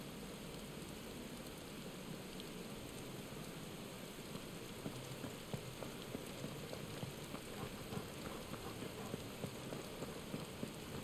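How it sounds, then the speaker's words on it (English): Steady rain falls in the video game Final Fantasy XVI, a dense, even hiss of drops on surfaces that continues without a break, faint and far off. "can't remember the last time I see it raining in this game"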